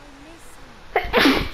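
A sneeze from a character in the co-op video game It Takes Two, a sharp burst rising out of quiet game ambience near the end, with talk around it.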